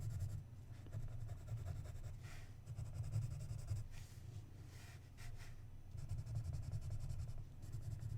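A pen scratches across paper while drawing Zentangle patterns, a soft continuous scribbling with short pauses between strokes, close and quiet over low room hum.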